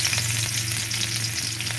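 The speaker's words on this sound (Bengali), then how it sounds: "এবার দিয়ে দিচ্ছি রসুনটা।" Garlic fries in a little oil in a wok, giving a steady close sizzle with a low continuous hum beneath, brief and uninterrupted, with no voices.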